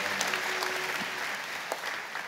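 A church congregation at a Sunday service applauds in welcome, steady crowd clapping filling the room at moderate level and tapering slightly toward the end, with no speech over it.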